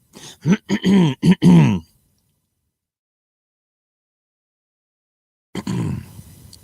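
A short burst of harsh, rhythmic coughing, loud and close, followed by a long silence and then a softer throaty sound.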